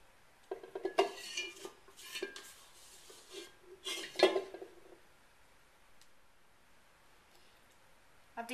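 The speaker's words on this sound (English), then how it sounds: "I've decided to get my little spreading knife out to help spread this across the top of the blueberries" A small spreading knife scrapes and smears thick coffee cake batter over blueberries in a pan, giving close, irregular bursts of scraping and light clinks against the dish, busiest early on, then fading to quiet.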